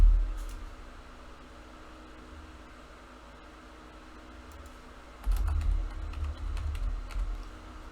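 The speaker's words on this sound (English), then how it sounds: "Maybe I'll learn to type one of these days." Keyboard typing at a desk during a budget gaming headset unboxing, soft clicks over steady room hum, growing busier and louder in the last few seconds.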